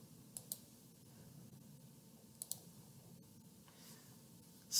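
Computer mouse clicks while navigating a library website, faint crisp clicks in two quick pairs with a softer tap later, over a quiet room hiss.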